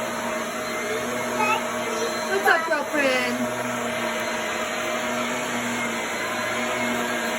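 A vacuum cleaner runs steadily indoors as a continuous whirring drone, while a person speaks briefly over it.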